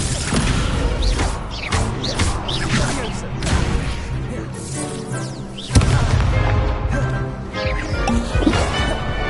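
Fire spell casting in Hogwarts Legacy, a dense roaring blast with crackling impacts and booms, loud and continuous with a sharp surge midway amid busy game effects.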